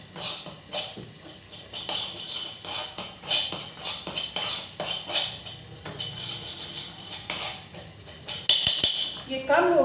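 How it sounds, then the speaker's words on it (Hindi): Gram flour roasting over low heat in a pan, stirred without pause, gives repeated metallic scrapes and clinks of a spoon against the pan in a rhythmic pattern, loud and close, with faint talk in the background. "बेसन को हमने लगातार चलाते हुए धीमी आंच करके भूनना है"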